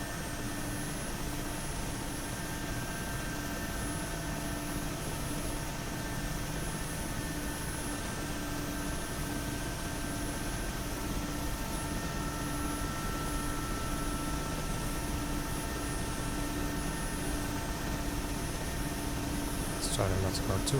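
A Mi helicopter in the DCS flight simulator drones steadily with turbine whine and rotor hum as it comes in to land at an airstrip, a constant loud engine texture with a brief clatter near the end.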